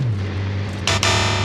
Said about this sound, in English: How many concrete walls can these cars smash through at 60 miles per hour?